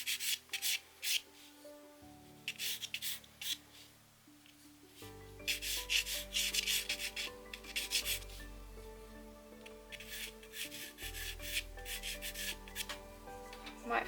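Charcoal scratches and rubs across paper while detail is drawn into a peacock ink-and-charcoal artwork, in steady close strokes over soft background music.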